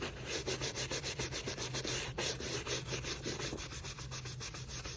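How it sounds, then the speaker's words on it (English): A brush scrubs debris off a Victor Cruz trainer sneaker in brisk, steady back-and-forth strokes, about three per second, close and clear with no talking. "everywhere on the shoe you can scrub the brush. Get as much loose debris off the shoe as you can"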